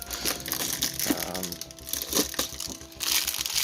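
A plastic packet from a LEGO Avengers advent calendar (set 76196) being torn open, with close, irregular crinkling and crumpling bursts throughout.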